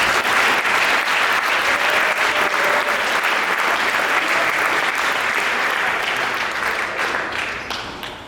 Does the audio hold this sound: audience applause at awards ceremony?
yes